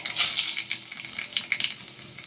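Dried red chillies and nigella seeds crackle in hot oil in a kadai, a bright, close sizzle with quick spits and pops over a couple of seconds.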